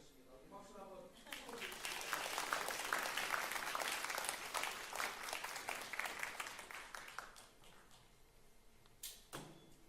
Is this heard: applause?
yes